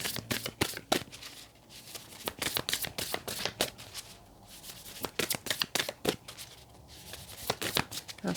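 Tarot cards being shuffled during a reading, a run of crisp riffling and slapping bursts close by, fairly quiet, with brief pauses between handfuls.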